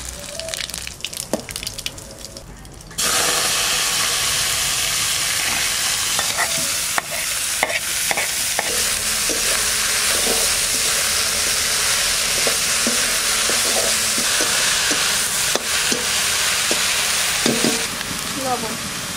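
Cumin and bay leaf sizzle in hot mustard oil in a wok (kadai), a loud, steady frying hiss that kicks in after a quiet start and continues with occasional stirring scrapes.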